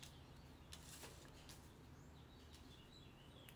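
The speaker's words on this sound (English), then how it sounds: "there's like the birds are cheeping. They're like going crazy." Faint bird chirps and tweets scattered over steady outdoor background noise, with a sharper chirp near the end.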